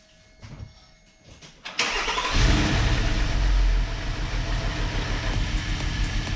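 A Porsche Cayenne 958 V6 cranks briefly, catches with a sharp surge, then settles into a loud, steady idle close by.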